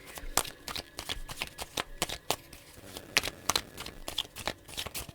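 Tarot deck shuffled close by, a series of crisp separate card slaps and flicks in an irregular rhythm, quiet and unaccompanied by any talking.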